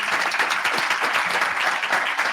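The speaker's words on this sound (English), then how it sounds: "please give a round of applause to our speakers" A conference audience gives a steady round of applause for the presenters at the end of a water governance session, continuous even clapping that holds at a fairly loud level throughout.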